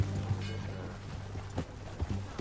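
Horse hooves clopping in Red Dead Redemption II, a few irregular thuds over a steady low hum of game ambience, fairly close and moderately loud, with no talking.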